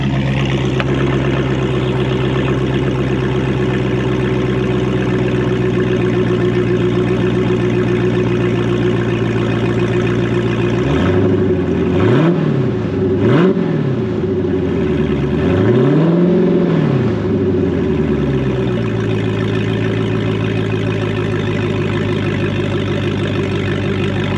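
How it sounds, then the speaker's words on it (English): A Dodge Challenger with its stock cat-back exhaust removed idles with a loud, steady low rumble, then blips its throttle in three or four quick revs that rise and fall before settling back to idle, with no talking. "Let me rev it up a little bit."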